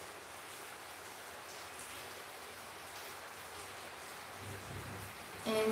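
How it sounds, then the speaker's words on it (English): Heavy rain falls steadily as a dense, even hiss throughout, with a slight swell toward the end. "This rain is like so crazy."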